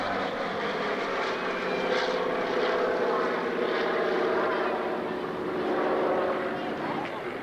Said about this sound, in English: Well, just look how low these aircraft go.